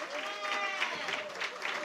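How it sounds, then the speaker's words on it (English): A short stretch of audience applause at a poetry event for a poet from Philly, steady and fairly close, with faint voices and tonal sounds layered underneath. "Just give him a round of applause."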